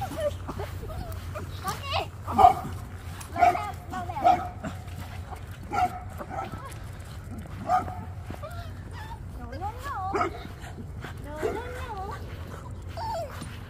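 Two big dogs next door bark and yip in short scattered bursts during an evening walk with Boston Terriers, moderately near, over a low background hum, with some whimpering squeals later.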